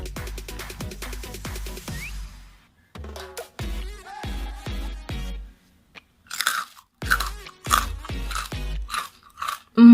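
Crispy oil-free baked pork sticks are bitten and chewed up close, with a run of sharp loud crunches at first, then bursts of crackly chewing separated by short pauses.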